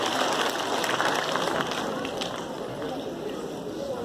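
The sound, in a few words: children applauding at a school award ceremony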